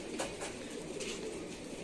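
Pigeons let out of their loft at six in the morning coo softly outdoors, a few faint, low calls repeating over quiet ambient noise.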